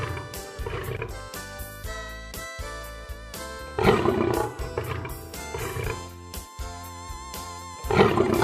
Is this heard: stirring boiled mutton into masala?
no